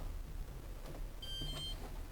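An Indesit heat pump tumble dryer sounds a short electronic beep pattern as it powers off. A few bright tones come close together over a low, steady room hum, with no talk.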